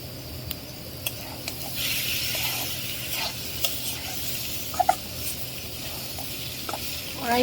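Potato, carrot and papaya being stir-fried together in a pan, a steady hiss of sizzling oil broken by scattered scraping clicks of a spatula, close by with no talking.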